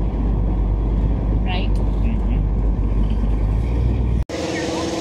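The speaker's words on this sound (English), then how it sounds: "we're driving the new car" An older car drives along, a loud, steady road and engine rumble from inside the cabin, with a voice briefly heard over it before a sudden cut.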